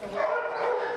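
A dog barks and yips at the Montgomery County Animal Adoption Center, a shelter holding many cats and dogs; the short, close sound is sharp and slightly whimpering.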